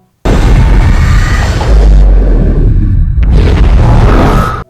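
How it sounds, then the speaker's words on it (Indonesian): A big explosion in the film Underwater, 2020: a loud, heavy rumbling blast with deep low-end roar that sustains, briefly drops away, then surges again before cutting off. "Bahkan sempat terjadi ledakan besar yang membuatnya pingsan."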